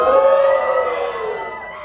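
A single siren-like tone wails and slowly falls in pitch, loud and steady, with no talking.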